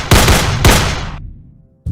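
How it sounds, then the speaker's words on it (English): Two sharp, loud gunshots about half a second apart, each with a decaying echo tail, followed by another abrupt loud sound at the end. "Upon hearing gunshots, Schleicher's wife rushed into the room."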